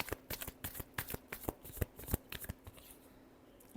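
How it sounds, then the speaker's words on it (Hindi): Tarot cards are shuffled by hand in a quick series of crisp, close riffling flicks for several seconds before tapering off. "last shuffle"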